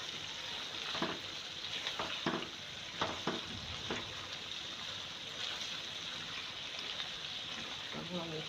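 Potatoes and capsicum frying in a pan while being stirred, a steady sizzle with several sharper scraping stirs of the spoon against the pan throughout.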